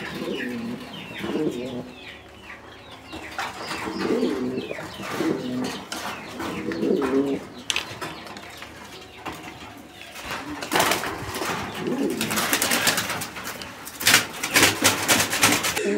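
Pigeons at a Bangladeshi pigeon farm coo in repeated low, throaty bursts, several birds close by, with scattered chirps and rustling between the calls.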